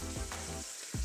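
Onion and mushrooms sizzle in a wok, with a steady close frying hiss broken by a few low scraping stirs.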